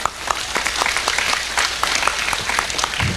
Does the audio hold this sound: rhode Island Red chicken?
no